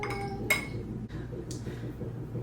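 Glass clinks in a cranberry cocktail being stirred, a couple of bright metallic-glassy chimes followed by softer scraping touches against the glass, close and quiet.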